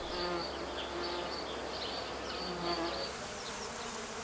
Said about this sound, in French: Ce sont les insectes qui sont les vecteurs de pollinisation.